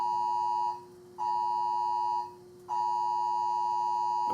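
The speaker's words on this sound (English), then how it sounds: "You probably have an Amber Alert." A phone sounds an emergency alert, likely an Amber Alert, as three loud, sustained electronic tones separated by short gaps, each repeating the same steady pitch.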